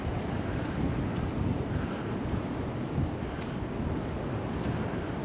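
Steady gusting wind buffets the microphone on a seafront after a stormy weekend, a continuous rough roar with slight surges and no voices.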